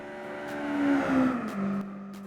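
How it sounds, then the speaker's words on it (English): A performance-tuned 1991 Honda Beat engine with upgraded flywheel and limited-slip differential revs in Gran Turismo 4, whining tonally as it climbs through gears with brief dips at each shift, loud and alone. "the sound of the performance-tuned engine is already compelling"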